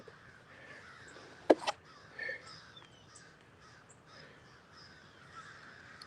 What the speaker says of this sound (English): those crows are going crazy today.